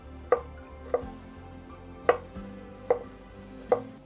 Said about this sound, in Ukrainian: Нарізаю його на товстенькі шматочки, також нарізаю солоний огірок.